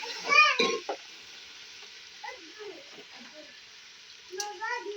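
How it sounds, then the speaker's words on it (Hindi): Onions, ginger, tomato and green chili fry in a pan, giving soft intermittent sizzling and stirring noises under a woman's speech, with quieter gaps of low crackle between. "अदरक, टमाटर, हरी मिर्ची, अब इसको थोड़ा सा भूनेंगे।"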